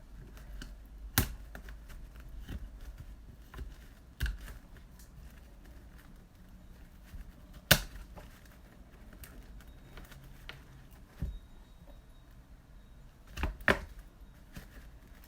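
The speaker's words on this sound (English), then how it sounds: "I like using the tin snips because it does go through it nicely" Tin snips cut through material to separate it into two pieces, giving several sharp, isolated snips spaced a few seconds apart over a quiet background.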